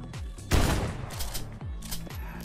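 Rapid shotgun blasts from the game Zombie Survival Game Online, several booming shots in quick succession with a dense burst near the middle, loud and close with no talking.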